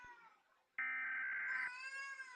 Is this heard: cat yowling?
yes